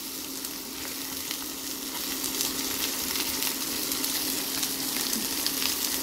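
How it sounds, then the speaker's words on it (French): Potatoes and red peppers sauté in a pan, giving a steady, close frying sizzle with fine crackle that grows slightly louder partway through and continues alone without voices. "Et on fait revenir les petites patates."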